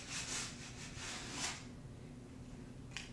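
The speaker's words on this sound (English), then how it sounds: "Scrape it on there." Transfer tape on a vinyl wall decal is rubbed down with a scraper, giving several close, dry, rasping strokes in a row and then a brief faint scrape near the end.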